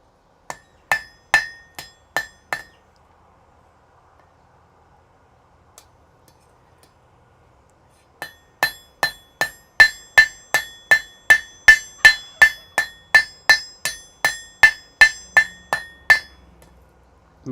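A hammer rings on an anvil in a smithy: a short run of about six sharp metallic strikes, a pause of several seconds, then a longer steady series of roughly twenty bright, ringing blows, close and loud.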